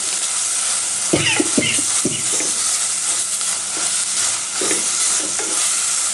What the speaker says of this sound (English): So I'll give that a good stir